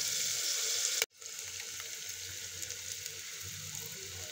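Ginger, garlic and coconut paste sizzles in hot oil for khichdi, a steady close frying hiss broken by one brief stir-like interruption.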